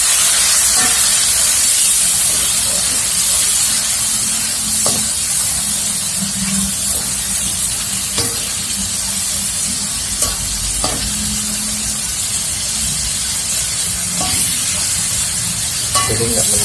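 Salted fish frying for sambal gives a steady, dense sizzle and hiss across the whole stretch, with a few scattered clinks of stirring and no voices.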